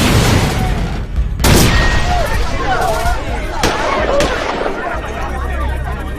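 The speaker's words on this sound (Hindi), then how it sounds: "लगातार 2 बमों के धमाके हुए, फिर 2 गोलियां चली।" Two sharp booming bomb blasts ring out among ongoing crackling commotion, followed by two sudden loud gunshots standing out.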